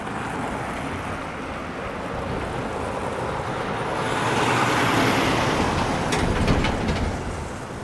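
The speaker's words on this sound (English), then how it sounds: "This is always a busy street here because they're one way and all the traffic coming up from the terminal" Busy one-way traffic on Water Street near a terminal, with a continuous roadway rumble of cars and heavy vehicles swelling as a large vehicle passes close by, plus brief high hiss and squeal near the end.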